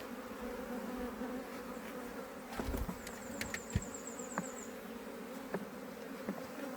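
A steady insect buzz of many honey bees around an open hive being fed sugar syrup fills the air, with a few sharp clicks and knocks close by.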